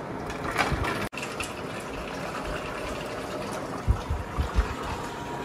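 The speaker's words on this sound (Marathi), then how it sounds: "आणि ह्यात आपण पाणी टाकूयात." Water poured into the tank of a Symphony Duet-i kitchen cooling fan makes a soft trickling and splashing in a quiet kitchen, with a few gurgles near the end.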